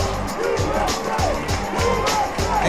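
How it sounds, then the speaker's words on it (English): A basketball arena crowd roaring after a big play at a high school game, a loud sustained rumble of cheering voices with rising swells, thumping low-end noise beneath. "And just hear this crowd."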